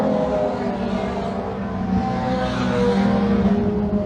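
Race cars roar down the back straightaway of a short oval speedway in a Thunder class heat, a continuous loud engine drone with no break.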